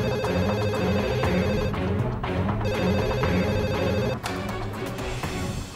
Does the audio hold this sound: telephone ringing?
yes